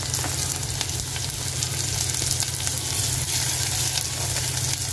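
Garlic fries in a pan of hot oil for a Malaysian Indian chicken curry, making a loud, close, continuous crackling sizzle that holds steady throughout with no voices.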